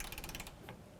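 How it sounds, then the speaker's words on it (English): A ratchet tightens the front lower control arm bolts on a 2008-2012 Chevy Malibu, giving a quick run of close, faint clicks in the first half second, then a short scrape. "now I'll bring the ratchet pretty much straight back to me"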